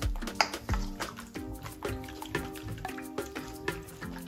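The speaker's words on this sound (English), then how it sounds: "We're gonna just give it a little stir." A spoon stirs a curry and salt cod fritter batter in a bowl, making repeated wet, sloshy clicks and scrapes in a steady rhythm, close and fairly soft, with no talk over it.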